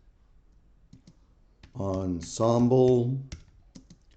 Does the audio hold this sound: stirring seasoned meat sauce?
no